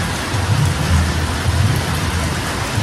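Heavy monsoon rain pours down at a farmhouse in Karjat, a loud, dense, unbroken roar with a low rumble underneath, steady throughout and with no voices.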